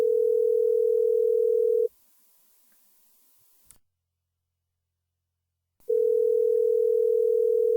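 A telephone ringback tone on an outgoing call: a steady, clear electronic tone sounds for about two seconds, stops for roughly four seconds of silence, then starts again.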